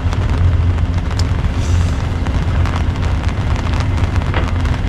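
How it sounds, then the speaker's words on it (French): Steady, dense patter of heavy raindrops striking a surface, loud and close, continuous throughout with no voices. "Alors c'est des grosses gougouttes hein"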